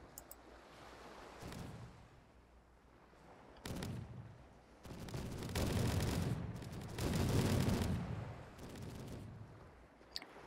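Gunfire rattles through a siege battle at Virgin Gorda in Blood & Gold: Caribbean, with scattered shots building into dense, sustained bursts of musket fire, loud and crackling, fading between volleys.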